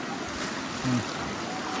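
Floodwater about 1 to 1.5 meters deep rushing like a river current through a flooded street during a major flood, heard as a steady broadband wash with a slight swell near the middle and no voices.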